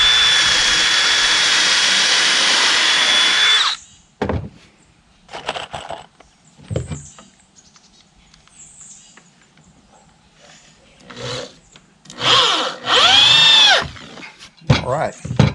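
A power drill drives screws into a wooden above-ground grow box, with a long loud whirring run at the start and later shorter bursts that spin up and down, separated by quiet stretches and some talk.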